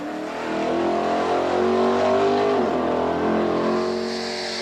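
A drag racing car launches and roars down the strip at Santa Pod, its loud engine holding a steady high drone as it accelerates, then shifts pitch partway through the run and keeps pulling hard.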